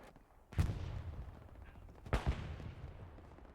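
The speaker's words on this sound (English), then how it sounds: "Here's the shooting." Gunfire in a competitive video game match, two distinct distant-sounding shot bursts with a short reverberant tail, otherwise fairly quiet.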